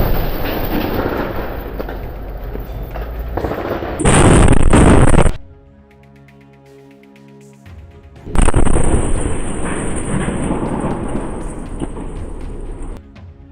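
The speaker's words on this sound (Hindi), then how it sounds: "और इसके बाद हमास का एक लड़ाका मलबे के बीचों बीच खड़े एक टैंक पर रॉकेट फायर कर देता है।" Combat footage of a Hamas fighter firing a rocket at a tank amid rubble in Jabalia, Gaza, with loud roaring blasts and rumbling bursts that break off into a quieter tonal stretch before another heavy roar.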